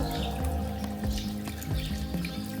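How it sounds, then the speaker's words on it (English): Water flows steadily through a solar-powered pond bog filter running for the first time, giving a continuous close trickle and splash with no voices. "The bog filter just starting to work for the first time today to filter out and make the water clear."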